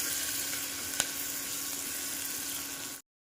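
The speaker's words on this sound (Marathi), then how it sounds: "कांदा थोडासा आपल्याला परतून घ्यायचा आहे" Chopped onion sautéing in hot oil with a pinch of salt, a steady even sizzle close by throughout, with one brief sharp tick near the start and no talking.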